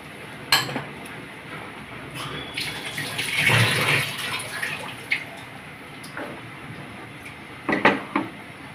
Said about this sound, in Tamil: இன்னுமே நம்ம தண்ணி ஊற்றலாம்.